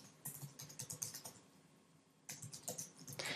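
Fingers typing an email address on a computer keyboard to sign in, quick close clicking in two bursts separated by a short pause, fairly quiet with no talking.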